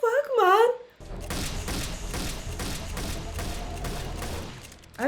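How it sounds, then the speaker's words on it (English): Rapid gunfire from the Fallout TV series, a dense burst of shots with thumps running steadily for several seconds after a short voice, loud and close. "Are you shooting somewhere?"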